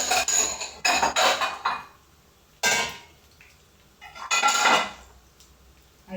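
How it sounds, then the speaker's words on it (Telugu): Curry moved from a pan into a serving vessel makes bursts of scraping and clanking of a metal spoon against cookware, in three separate clusters with quiet gaps between, close and fairly loud. "కర్రీ గిన్నెలోకి తీసుకుపెడతాం."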